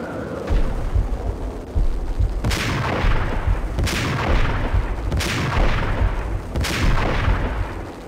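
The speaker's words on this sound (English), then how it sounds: "I'm shooting it!" Heavy booming gunshots ring out in the Max Payne video game, four or five loud blasts spaced a second or so apart, each with a long rumbling tail over continuous noisy action.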